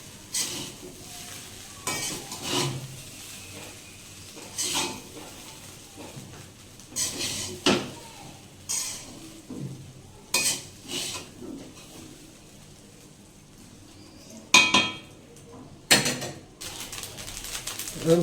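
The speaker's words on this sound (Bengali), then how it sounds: "আর একবার নেড়ে দিচ্ছি।" Egg prawn fried rice being stirred in a pan with a spatula: about a dozen scraping strokes at an uneven pace over a soft sizzle, fairly close, with brief sharper clatters near the end.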